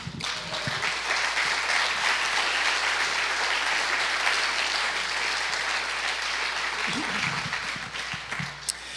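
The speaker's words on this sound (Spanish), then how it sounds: "¿Por qué no le da un aplauso al Señor?" A church congregation applauds steadily for several seconds, a dense, sustained wash of clapping that fills the room, with a few low voices or thumps near the end.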